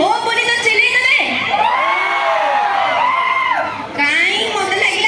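A crowd at an outdoor jatra stage during a Kali Puja festival in Basudevpur shouts and cheers loudly, with whoops and children's yells mixed in, the noise dipping briefly before surging again.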